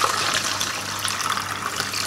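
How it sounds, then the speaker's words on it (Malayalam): Water gushes steadily into a spray bottle being filled for a homemade camphor and baking soda cockroach spray, a continuous close pouring sound with no voices. "അതിന് മുമ്പ് നമുക്ക് ഈ ഒരു വെള്ളം ഇതിലേക്ക് ഒഴിക്കാം."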